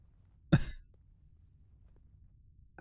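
A baby gives one short cough, close and alone, followed by quiet and a brief sound at the very end.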